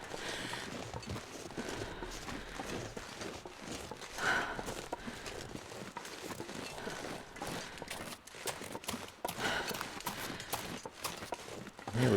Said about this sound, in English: Feeling like I keep hearing footsteps.